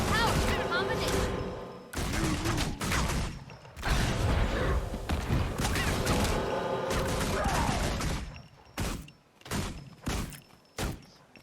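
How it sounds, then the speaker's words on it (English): Bursts of video game gunfire, dense volleys for several seconds then scattered separate shots, with a voice talking over parts of it. "Stop shooting, damn it."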